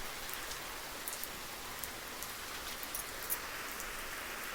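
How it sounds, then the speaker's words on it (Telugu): Steady rain falls across a residential colony as a dense, even hiss with scattered close drips tapping on surfaces, with no voices over it. "వర్షం ఎక్కువ అవుతుంది"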